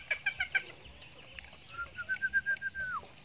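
A green junglefowl clucks a few quick notes, then gives one long, drawn-out call that falls away at the end. The sound is fairly close and stands alone over a quiet outdoor background.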